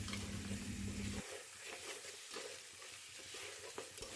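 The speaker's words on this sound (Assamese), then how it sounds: "তাৰপিছত আটাইখিনিয়ে ভালকৈ লৰাই ভাজি ল'ব।" Chicken with sesame sizzles and fries in a kadai while being stirred, with a steady crackling hiss and occasional scraping strokes close up.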